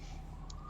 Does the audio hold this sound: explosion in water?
no